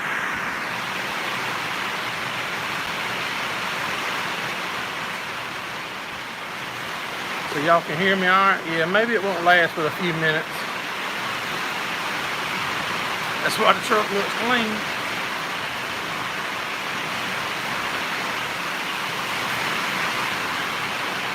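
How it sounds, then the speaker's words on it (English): Steady rain falling on a farm, a continuous hiss throughout the whole stretch, with someone talking in two short passages over it. "At least now, y'all know what the rain is doing."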